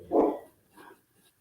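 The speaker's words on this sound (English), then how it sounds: "Now the dog's going to bark, so I do apologize." A dog barks once fairly close in a house, followed by a softer second bark and a faint trailing sound.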